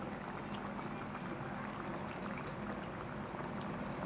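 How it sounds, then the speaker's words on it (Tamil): Coconut milk is poured into a simmering mutton pepper gravy, giving a soft, steady liquid pouring and bubbling hiss that stays faint and continuous throughout, with no talking. "இப்போ கொஞ்சமாக இதில் தேங்காய் பால் சேர்த்துக்கலாம்"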